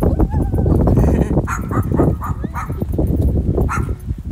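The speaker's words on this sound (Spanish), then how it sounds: "¡Oh, un perrito!" A small dog barks and yips repeatedly and fairly close, in quick uneven bursts, amid outdoor street noise in the hills of Los Angeles, California.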